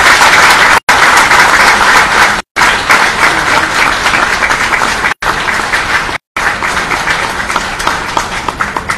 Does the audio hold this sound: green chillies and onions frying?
no